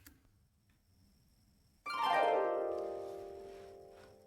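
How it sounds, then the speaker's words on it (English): Harp glissando from the Kontakt factory library, layered on two tracks, sweeps in suddenly after near silence as a bright rising run, then rings out with sustained overtones that slowly fade, with no voices present. "it starts with a harp glissando"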